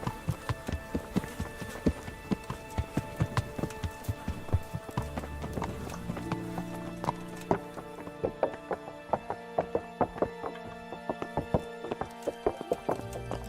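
Horse hooves gallop in the medieval game Kingdom Come Deliverance, a quick, even clip-clop of hoofbeats that runs throughout, with steady musical tones playing underneath.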